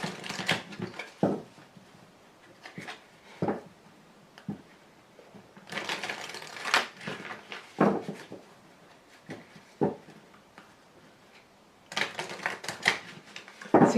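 Tarot cards drawn from a deck and laid down during a reading: a scattered series of soft, brief shuffling and flicking bursts spread through the clip, close and fairly quiet, with no talk over them.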